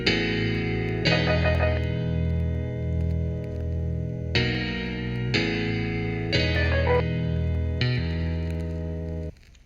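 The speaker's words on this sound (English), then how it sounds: "this this piano loop, these piano chords." Piano chords from a Korg SV1 keyboard loop through a beat, sounding sustained and layered with reverb and effects, changing chord in steady blocks every second or two.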